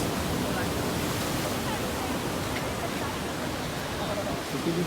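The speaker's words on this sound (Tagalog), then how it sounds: "The waves." Ocean waves at Tanah Lot in Bali roar and wash steadily as a dense, broad surge of surf noise close by, with a faint voice present beneath it.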